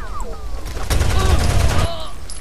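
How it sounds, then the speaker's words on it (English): Rapid bursts of gunfire in the video game Rainbow Six Vegas, loud and dense automatic shooting building up mid-clip before easing off. "Would you kindly stop shooting at me long enough so I can shoot at you?"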